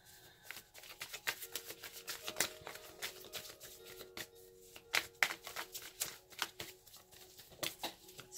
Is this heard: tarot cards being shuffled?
yes